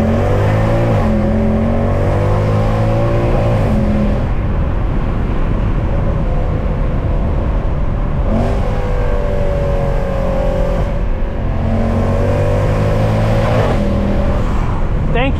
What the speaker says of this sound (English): now we're going to hear some flybys of this car